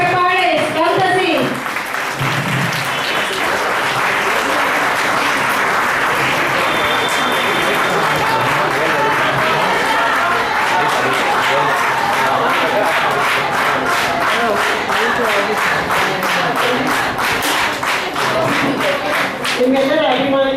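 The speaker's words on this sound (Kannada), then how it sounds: "ಚಪ್ಪಾಳೆ ಸ್ಪಂದಿಸಿ" Sustained audience applause at a Kannada book launch, loud and dense clapping that holds steady for about twenty seconds, with crowd murmur and occasional voices mixed into the clapping.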